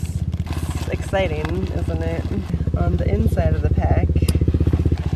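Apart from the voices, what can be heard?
motorcycle passing by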